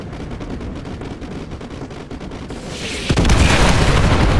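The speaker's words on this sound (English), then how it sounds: "Fire mission received. Artillery inbound." Artillery fire rumbles in Call of Duty: Modern Warfare 2, with a low rolling roar that surges into a loud, dense blast of explosions near the end, with no speech.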